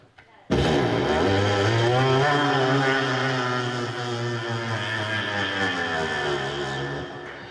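A voice imitates a delivery motorcycle engine, a buzzing, revving drone held for several seconds, loud and close.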